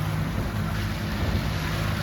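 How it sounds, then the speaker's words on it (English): Sailboats out on open water during a youth sailing clinic, heard as a steady wash of wind and waves with heavy microphone wind rumble and no talk. "These guys are sailing great, Carlin and Liam, I guess."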